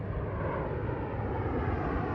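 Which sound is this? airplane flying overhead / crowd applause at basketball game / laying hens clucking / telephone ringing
airplane flying overhead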